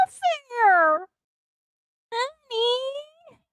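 A person imitates a cat's meow, giving two drawn-out, whiny meows separated by a short pause, close and clear.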